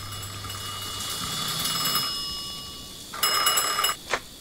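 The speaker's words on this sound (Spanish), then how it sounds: "suena el teléfono, contesta con una fregada." A telephone rings in the video game Mafia II with a bright electronic bell tone, a steady ring followed by a louder burst of ringing and a short final chirp, heard alone without speech.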